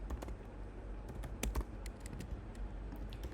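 Keys clatter on a computer keyboard in quick, uneven bursts, close and fairly quiet, with a few sharper strokes standing out and no talk.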